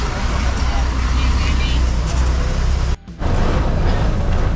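A Kundapura bus bound for Mookambika pulls away, its engine and road noise forming a loud, continuous rumble broken by one brief dip in the middle.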